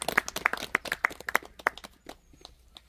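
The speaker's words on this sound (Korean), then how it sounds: "박형남 둘째 아드님께 큰 박수 보내드리겠습니다" Scattered audience clapping at a memorial ceremony, a modest run of distinct claps that thins out and fades within a few seconds.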